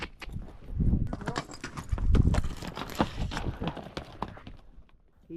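A young horse walks over rocky ground, its hooves landing in close, uneven clops and scrapes with no talk over them.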